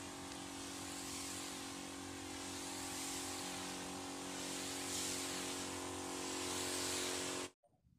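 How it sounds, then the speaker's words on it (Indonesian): A steady, forceful hiss of a sprayer runs over a low droning engine hum, then cuts off abruptly near the end. "Sekarang kita lakukan penyemprotan."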